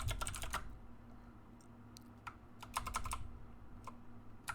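Quick bursts of clicking keystrokes on a computer keyboard, close and fairly quiet, with short pauses between clusters of typing and no speech.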